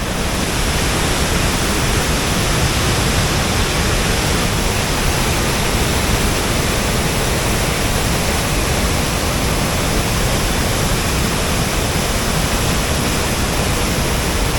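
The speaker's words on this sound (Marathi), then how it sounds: "आता आपण धबधबा पाहूया केवढ्या मोठ्याने वाहत आहे तो देखील आपण पाहूया" A Konkan waterfall swollen by heavy monsoon rain, roaring as a loud, steady, unbroken rush of water that fills the whole clip with no break.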